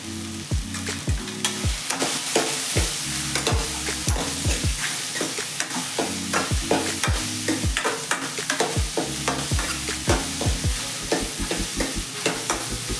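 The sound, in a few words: frying ridge gourd with turmeric powder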